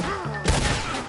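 Gunfire in the video game Red Dead Redemption 2, a sharp burst of shots around the middle followed by a dense, loud clatter of firing and game noise over a short stretch.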